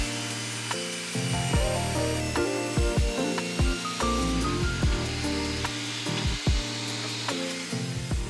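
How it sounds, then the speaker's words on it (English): Strips of 18mm birch plywood are cut for workshop uprights, with loud, uneven mechanical clatter and rasping, rhythmic cutting strokes close by. "I'm going to start by cutting the uprights"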